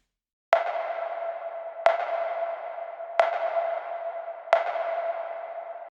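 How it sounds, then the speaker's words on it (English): Four evenly spaced tom drum hits, each pitched and followed by a long, ringing reverb tail that fades slowly. "this last sample was a tom where I pitched it into key and added a lot of reverb"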